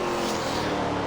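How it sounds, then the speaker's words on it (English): Race car engines in SRX The Game drone at full throttle in a brief, loud, steady burst down the final stretch, with no voices. "And it's a drag race down to the end."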